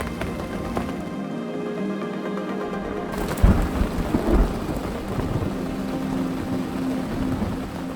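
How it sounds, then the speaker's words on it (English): Thunderstorm with heavy rain hitting a boat on a carp fishing lake, a steady dense roar of rain with a sharp thunder crack and rumble partway through, close and loud. "The storm has just hit. It is horrible out there."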